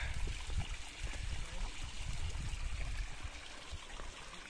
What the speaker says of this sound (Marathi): एवढं पाणी आहे, पियाचं पाणी आहे इथे